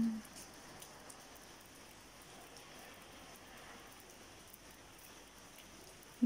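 Steady rain falls on Menorca, Spain, as an even, soft hiss that holds from start to finish with no voices over it.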